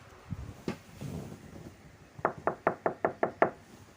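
A few scattered knocks, then a rapid run of about eight loud bangs on a door in steady rhythm, close by.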